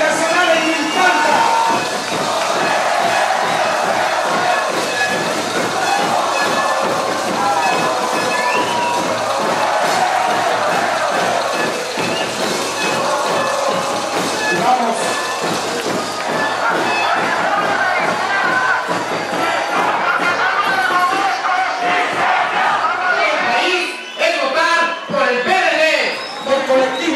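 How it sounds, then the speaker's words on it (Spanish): A crowd at an outdoor political campaign rally in Milpa Alta cheers and applauds continuously, a dense, loud roar of many voices and clapping filling the whole stretch. "Fuerte el aplauso al compañero Víctor Hugo Monterosa, próximo jefe delegacional en Milpalta."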